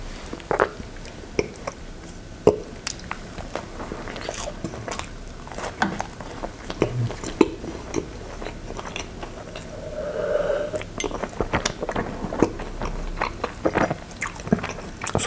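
Someone bites and chews a pancake topped with sweetened condensed milk, close to the mic, with repeated soft crunches, wet squishes and smacking bites spread across the stretch, and no talking.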